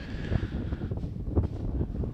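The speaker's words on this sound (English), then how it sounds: "I'm sure you can hear it a little bit in our broadcast as well, as it's blowing straight into the press box here" Wind gusting straight into the press box at a high school baseball game, a steady low roar and rumble against the microphone that swells slightly in places, with no voices over it.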